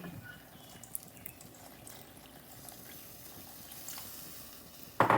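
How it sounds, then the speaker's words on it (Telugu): Water is poured into a pan of stuffed brinjal curry, giving a faint trickling and splashing over low kitchen background noise, ending in a louder burst of splashing at the close. "ఇప్పుడు నేను దీంట్లో కొంచెం మనకి ఎంత వాటర్ కావాలో అంత వాటర్ వేసుకుందాము"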